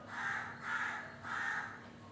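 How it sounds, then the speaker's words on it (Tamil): A crow caws three times near a house, each call harsh and drawn out with short gaps between them, fairly clear against a quiet background. "நான் வாய்ஸ் கொடுக்கும்போது எங்கள் வீட்டில் ஒரு காக்கா வந்து டிஸ்டர்ப் பண்ணிகிட்டே இருக்குது."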